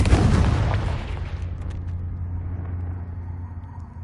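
A Confringo fire spell explodes in Hogwarts Legacy on PS4: a loud, close blast opens, then fades into a long low rumble and a steady droning hum, with no talk.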